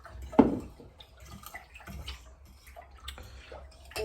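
A fork stirring thick maize porridge (pap) in a microwave bowl, giving one sharp knock near the start, then scattered soft scrapes and clicks at an uneven pace.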